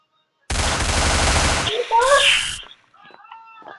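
Video game gunfire in Cops and Robbers, a loud sustained burst of rapid automatic shots for over a second, a brief pause, then another burst with electronic game effects trailing off.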